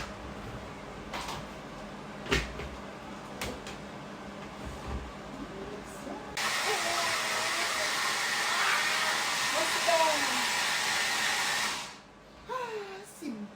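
A blender whirs loudly for about five seconds, mixing homemade chili sauce with water, a steady high-pitched buzz that stops abruptly, with clattering handling sounds before and a voice briefly after.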